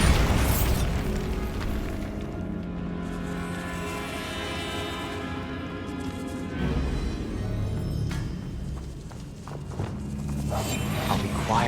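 A Bombarda explosion spell goes off in Hogwarts Legacy with a heavy boom and burst, followed by rumbling game ambience, tonal music and further impacts over about twelve seconds.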